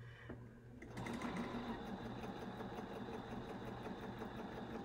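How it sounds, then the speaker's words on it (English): A sewing machine starts up after a brief quiet moment and then stitches steadily with a continuous whirring hum and rapid mechanical clatter, close and even in level, with no one talking. "I just love the sound of a good sewing machine"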